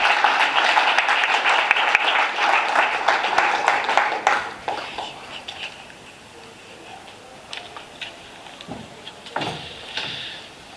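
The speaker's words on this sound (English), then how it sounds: "ladies and gentlemen, a huge, huge round of applause for Professor Anton" A conference audience at a media summit gives a round of applause to Professor Anton Harbour. The clapping is loud at first, then dies away after about four seconds, leaving only scattered faint knocks and rustles.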